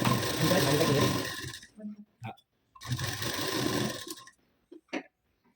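A sewing machine stitches a blouse hem in two steady runs of whirring, each lasting a second or two and separated by a pause, with brief clicks and a voice in the gaps.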